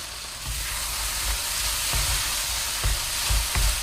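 Apples caramelizing in a pan with whole liquid cream give a steady, close frying sizzle, broken by several soft low thumps as the pan is stirred.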